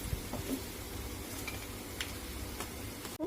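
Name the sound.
frying in a pan for besan laddu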